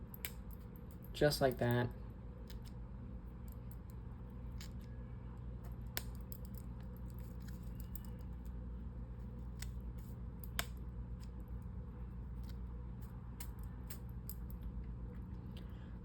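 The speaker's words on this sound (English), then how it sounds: "Now right back here, I'm gonna trim just a bit," A few quick scissor snips trim fly-tying material on an 8/0 monster rat fly, a short close burst of cutting near the start followed by quiet room tone, with a person speaking briefly.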